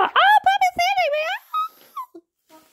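A puppy lets out a run of close, high, wavering whimpers in short bursts that trail off into softer whines.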